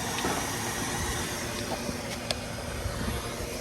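A vacuum cleaner working over a ZL1 car's interior produces a steady, moderately faint whooshing hiss with occasional small clicks and knocks as the nozzle moves, no voices.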